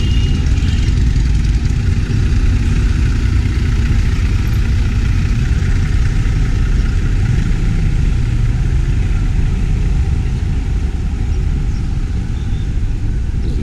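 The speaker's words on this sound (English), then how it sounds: "Here's one of these kind of buses you take." A bus engine idles on a street in an Amalfi Coast town in Italy, a steady close mid-to-low rumble holding constant throughout with light street ambience and no talk.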